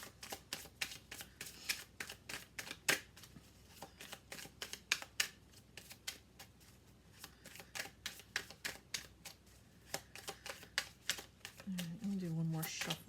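Tarot cards are shuffled in quick, crisp bursts of riffling and flicking, close and fairly quiet, with short pauses between runs and a brief voice at the end.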